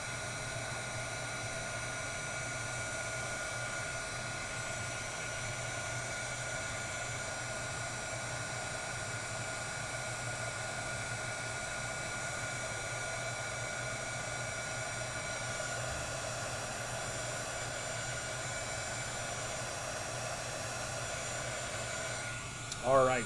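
A heat tool warms embossing powder on a craft card, blowing a steady, even, fan-like drone that runs unchanged for over twenty seconds before a brief knock at the end.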